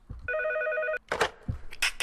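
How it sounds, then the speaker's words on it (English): Telephone ringing in the Red Collars video game: a steady electronic ring tone holds for about 0.7 seconds, then cuts off and is followed by short bursts of game noise. "Let's answer the phone. Is that the phone over there?"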